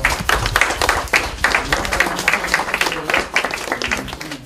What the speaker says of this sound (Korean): 우리 집에서 박수 한번 쳐주세요.